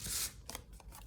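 Paper being trimmed for a handmade junk journal mini album made from a 12 x 12 sheet, with a rough crisp swish of a blade followed by a few lighter cutting strokes, close and fairly quiet, no talking.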